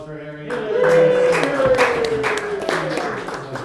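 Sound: audience applause for Harry

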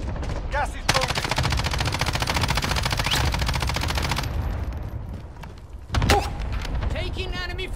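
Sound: gunfire in a video game

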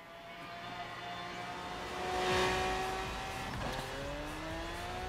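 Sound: car driving in video game Forza Horizon 3

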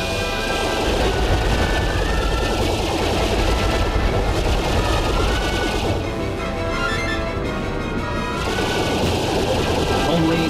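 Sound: gunfire shooting at a missile in Star Fox Assault video game

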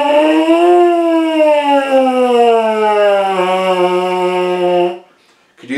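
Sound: brass mouthpiece buzzing lip slur

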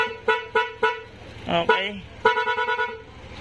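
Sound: scooter horn honking

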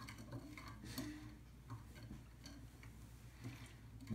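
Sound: stirring Jello powder in a bowl

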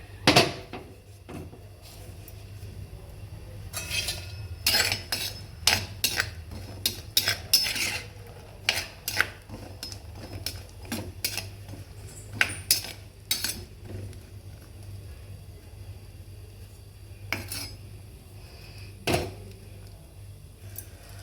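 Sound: sautéing green turkey berries in ghee, stirring in pan

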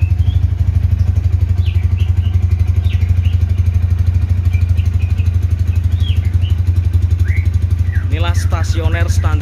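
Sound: Honda Tiger Revolution GL200R motorcycle engine idling

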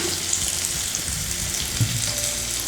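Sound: sautéing onion with bitter gourd and mango in a pan

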